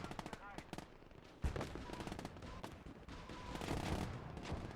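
Rapid machine-gun bursts and scattered rifle shots in the World War II strategy game Gates of Hell, a dense battlefield fusillade with crackling volleys and distant booms, fairly quiet overall.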